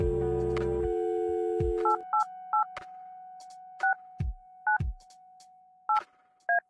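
Hotel room phone with an external line in the adventure game Kathy Rain: a dial tone cuts off, then a series of separate touch-tone beeps as a number is keyed, with brief clicks between presses.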